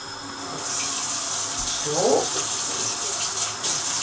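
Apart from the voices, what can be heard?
tap water running while washing a hand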